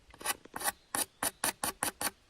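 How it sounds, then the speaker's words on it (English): A stone spear tip's edge is ground against a coarse stone, giving a series of about eight rhythmic rasping strokes, close and fairly quiet, with no talking. "I've just been grinding and sanding"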